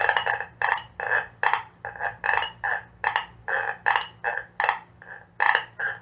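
An erhu imitates a croaking frog with a rapid run of rough, raspy pulses, roughly two per second, steady and close with nothing else around.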